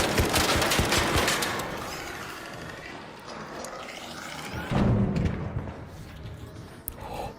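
Video game gunfire, rapid bursts of automatic shots in the first few seconds, then scattered distant shots and clatter at a moderate level.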